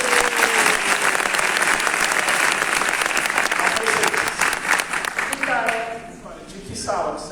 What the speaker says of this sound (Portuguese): E as palmas?